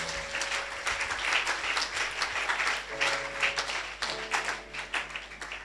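A church congregation claps together in steady, dense applause that fills the room, with a few voices mixed in.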